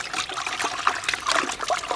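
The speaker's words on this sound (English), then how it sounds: "just want to wash it two or three times in the bucket of fresh water until it goes nice and clear" An air filter is rinsed in a bucket of fresh water, giving a steady close trickling and sloshing of water throughout, with soft splashes and no voices.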